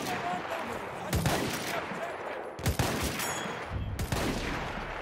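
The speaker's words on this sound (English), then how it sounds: "Can't believe I missed all those shots, but okay." Gunfire from the shooter video game Battlefield 1: several bursts of loud shots, with sharp cracks near the one-, three- and four-second marks, over a steady game din.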